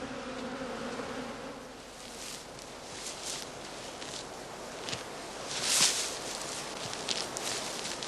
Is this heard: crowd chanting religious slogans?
no